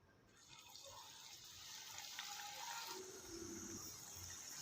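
Potato pakoras frying in a pan of hot oil over high heat give off a soft, continuous hiss and bubbling that builds slightly and then holds steady.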